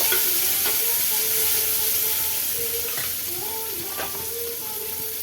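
Loud, continuous sizzling of chopped onions frying in hot oil, with occasional stirring scrapes against the pan.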